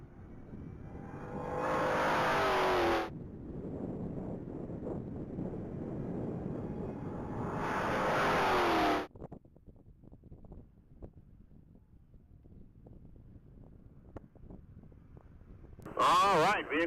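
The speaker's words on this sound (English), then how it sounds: "vehicle number 781 is on track. That's going to be a blue 2016 Challenger SRT Hellcat." Blue 2016 Dodge Challenger SRT Hellcat blasting down a mile-long top-speed track, two loud roaring passes rising and cutting off, then quieter wind and rumble with speech-like murmur before a brief burst at the end.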